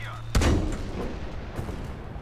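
Artillery fire during a Breakthrough battle in the video game Battlefield V: one sudden loud blast followed by a lingering rumble and faint scattered shots, with no voices over it.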